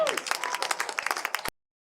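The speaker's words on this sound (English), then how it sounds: "Give them a round of applause." A crowd at a renewable energy forum in Montana gives a brief, lively round of applause. Hand claps patter densely for about a second and a half and then cut off abruptly into silence.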